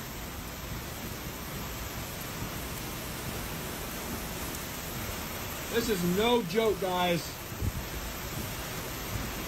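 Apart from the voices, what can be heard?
heavy rain and intense winds in a severe thunderstorm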